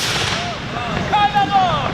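A single heavy black-powder style gun report fired on command, a loud sharp blast followed by a rolling echo and ringing tail outdoors.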